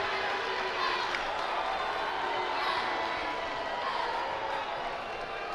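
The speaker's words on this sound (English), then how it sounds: "Los Fresnos crowd not liking that." A high school basketball crowd at a Los Fresnos vs Brandeis regional semifinal voices displeasure at a travel call: a steady, dense roar of many voices holds throughout without any clear break.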